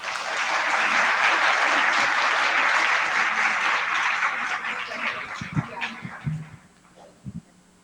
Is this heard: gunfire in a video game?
no